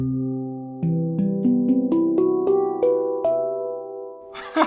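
A Neotone digital handpan plays a short improvised run of about nine clear, ringing metallic notes, struck one after another and left to sustain, ending in a brief burst of noise.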